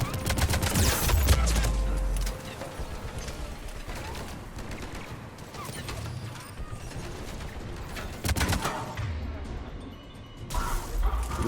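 A mounted gun in Mass Effect 3 fires in dense, continuous bursts of rapid shots, loud and close, with crashes and impacts mixed through the volley and brief lulls between.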